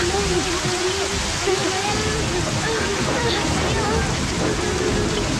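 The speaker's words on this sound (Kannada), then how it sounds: "ಅಯ್ಯೋ ಇಷ್ಟೊಂದು ಮಳೆ ಬರ್ತಾ ಇದ್ದೀನಪ್ಪ" Heavy rain pours down in a Kannada movie scene, a dense, steady wash of rainfall filling the whole stretch at constant loudness, with voices talking underneath.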